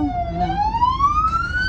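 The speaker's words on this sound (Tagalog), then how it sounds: "Ayan, yan yung ambulansya" An ambulance siren wails nearby, a loud rising tone sweeping upward over steady traffic rumble.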